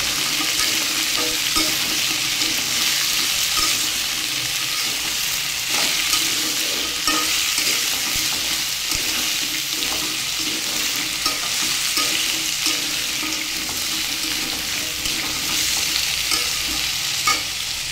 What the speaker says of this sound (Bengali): এরপরে সব সবজিগুলো একটু ভেজে নেব।